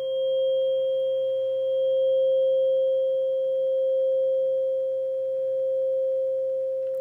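Tuning forks struck at 396 Hz and 528 Hz ring out as a pure, sustained sine-like tone, steady and clear for several seconds with a gently pulsing level and no voices.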